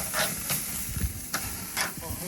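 A very thick steak sizzles in butter over a fire outdoors, a steady frying hiss punctuated by a few brief louder crackles and bursts, with a voice speaking quietly over it.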